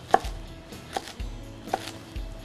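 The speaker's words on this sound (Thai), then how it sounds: "ต้นหอมเราหั่นเป็นต้องเล็กๆนิดนึงครับ" Three or four separate knife strokes through spring onions on a cutting board in a kitchen, crisp, evenly spaced thuds, close and fairly soft, alone without talk.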